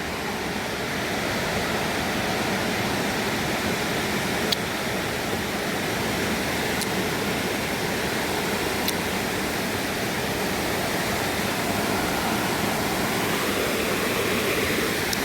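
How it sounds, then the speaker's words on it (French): A small but noisy river rushes steadily beside a walking trail, a loud continuous broadband roar of churning water, close and unbroken, with a few faint clicks on top. "je longe une petite rivière là."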